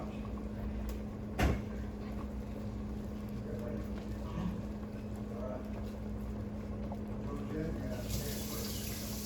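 A kitchen tap runs while hands are washed, giving a steady, faint water hiss under a low hum, with occasional knocks and soft voices nearby.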